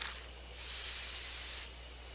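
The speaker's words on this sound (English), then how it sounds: "I take careful aim and spray the drug." A sprayer releasing a drug at a beehive in the video game Death Mark: one steady hiss lasting about a second, clear and close, with no talk.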